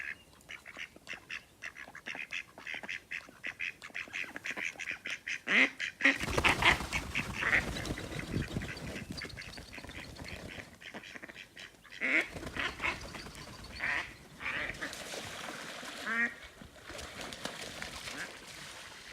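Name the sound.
ducks fighting and quacking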